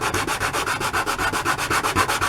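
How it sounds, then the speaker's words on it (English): Wood being sanded with sandpaper held on a flat surface for a miniature table, a steady rhythmic rasping of quick back-and-forth strokes, close and loud with no talking. "by putting the sandpaper on a flat surface, it should sand flat"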